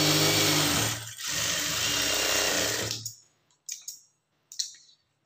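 A sewing machine stitching the lining of a blouse, running in a loud continuous whir for about three seconds, then stopping, followed by a few short mechanical clicks and bursts.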